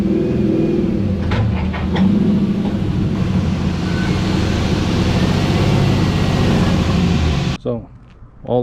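A Mazda FC RX7 with a swapped 5.3 LS V8 engine idles and rumbles steadily nearby as it is driven onto a trailer at a drift event, loud and continuous, cutting off near the end; a voice talks over it.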